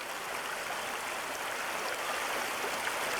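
An Alaskan mountain river where salmon are running upstream rushes and gurgles with a steady, dense broadband wash, constant and close, with no voices.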